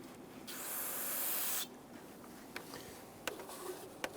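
A loud, steady aerosol hiss of spray solvent lasting about a second, then quieter rubbing and wiping sounds with a few small clicks, close by, while cleaning the lower intake plenum of a 2011-2019 Ford Explorer 3.5L V6.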